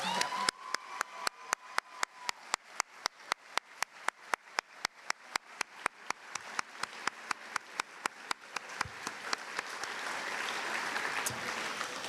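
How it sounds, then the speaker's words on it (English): Applause for graduating seniors at a high school senior awards ceremony, a crowd clapping steadily in a large hall, fairly faint and distant, with crisp rhythmic claps up front that blend into a thickening wash of applause toward the end. "Can we please have one more round of applause for all of our seniors?"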